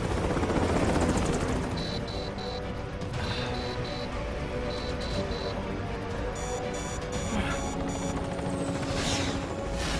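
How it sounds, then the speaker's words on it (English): Helicopter in the video game Metal Gear Rising: Revengeance, a loud continuous rotor roar that stays steady throughout, with short bursts of beeping electronic tones on top. "Oh, Duck Dad can really pilot a helicopter."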